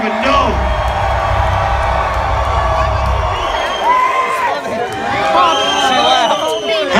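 A rock concert crowd cheers and whoops loudly at a heavy metal show, a dense roar of many voices with high shouts rising over it, while someone talks over the noise.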